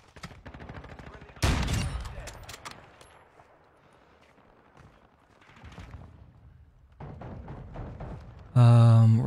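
Gunfire in a shooter video game with pistols and sniper rifles, loud sharp shots in rapid clusters and a sudden heavy burst at the end, interspersed with quieter stretches.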